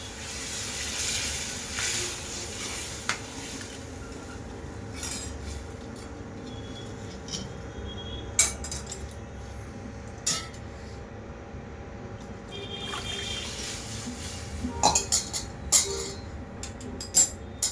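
Kat gravy poured into oily, sizzling masala for Kolhapuri misal gives a low, steady hiss and bubbling simmer throughout, with scattered light clinks of utensils and no talking.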